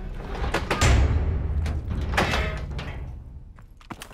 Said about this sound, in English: Get the door.